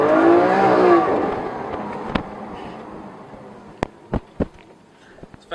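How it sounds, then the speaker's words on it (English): A fast car roars past close by, its loud engine whine sweeping down in pitch as it passes and fades. A few sharp, isolated clicks follow. "It's a fast car."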